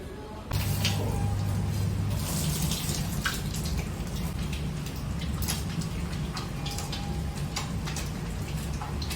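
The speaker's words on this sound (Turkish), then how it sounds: "Şimdi arkadaşlar önce eller yıkanıyor." Tap water runs steadily in a hospital operating room scrub area as hands are washed, a continuous close splashing hiss that starts abruptly and holds to the end.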